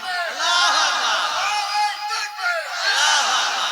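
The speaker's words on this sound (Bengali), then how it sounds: "তোমরা একবার তাকবীর মারো তো।" Large crowd at a religious gathering roars the takbir together, loud massed chanting voices rising and falling in repeated waves, close and dense.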